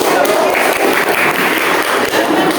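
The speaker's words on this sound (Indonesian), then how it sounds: "Ya, beri tepuk tangan." Short burst of applause from students in a classroom, clapping close and mixed with chatter and voices.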